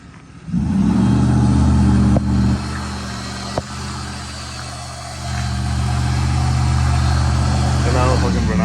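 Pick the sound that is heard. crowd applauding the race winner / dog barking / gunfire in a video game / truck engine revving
truck engine revving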